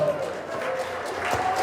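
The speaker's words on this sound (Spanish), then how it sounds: "dele ese aplauso fuerte a Jesús" A church congregation claps together in a big room, a steady wash of applause with a voice faintly heard over it.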